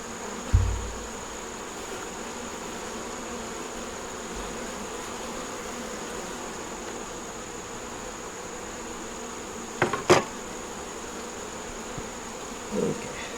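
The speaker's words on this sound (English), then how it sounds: "This one here has pollen and nectar and a bunch of bees on the bottom." Honey bees hum in a steady, even drone around a nuc box hive, with a couple of faint knocks and taps standing out briefly and no one speaking.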